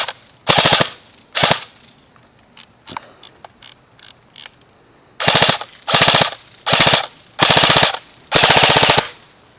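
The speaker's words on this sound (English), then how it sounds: "Travis, give us some full auto" A Lancer Tactical LT-02 airsoft M4 CQB fires on full auto, loud and close: a rapid burst, a scatter of brief short strings, then five sustained rattling bursts with short pauses between them.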